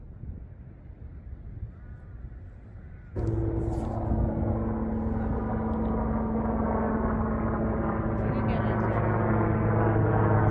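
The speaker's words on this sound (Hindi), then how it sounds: "ये आर्मी का हेलीकॉप्टर ऊपर से जाते हुए।" An army helicopter flies overhead above green meadows near Chitkul in the Baspa river valley, its droning engine hum with steady tonal harmonics cutting in abruptly after a quiet outdoor stretch and holding fairly loud to the end.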